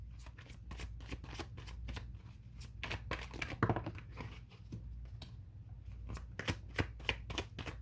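Tarot cards shuffled by hand in rapid, crisp riffles and slaps, close and continuous with a few louder bursts and no talking.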